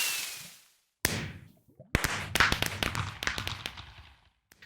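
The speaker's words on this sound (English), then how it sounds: "this is the perfect time for a firework box" Fireworks popping from a firework box block in a modded Minecraft world at nightfall: a launch whoosh followed by a rapid string of sharp crackling bursts, moderately loud and with no talk.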